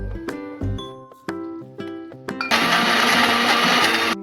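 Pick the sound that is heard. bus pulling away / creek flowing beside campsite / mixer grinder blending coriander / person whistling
mixer grinder blending coriander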